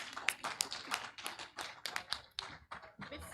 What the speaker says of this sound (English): Farmers, can you give a round of applause for the input suppliers